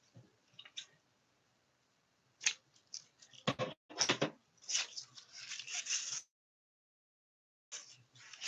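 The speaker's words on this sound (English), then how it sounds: "Get some scissors and snip snip my longer pieces." Scissors snip through ribbon lengths while assembling a double ribbon graduation lei, giving a run of close, crisp cuts and rustling handling noise with a quiet pause before a last burst.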